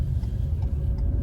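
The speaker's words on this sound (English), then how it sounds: "you should be able to hear the car switch over to the gas part of the engine here" A Ford Maverick Hybrid pickup cabin carries a low, steady engine rumble as the gas engine takes over from electric drive, with a constant road drone and no talk over it.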